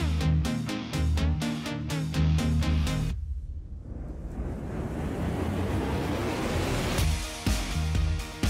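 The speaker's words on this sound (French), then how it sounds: "le vent claque de plus belle dans la voile, et les vagues chahutent le navire" Stormy sea waves batter a sailing ship as wind whips the sail, heard as a broad rushing wash of surf and gusting wind, entering abruptly after a burst of music and swelling again near the end.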